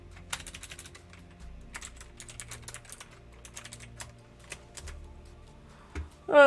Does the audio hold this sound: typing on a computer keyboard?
yes